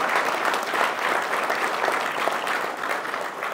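A hall audience at a borough's 150th-anniversary event applauds a framed gift donated to a local fire company, with loud, dense, continuous clapping throughout.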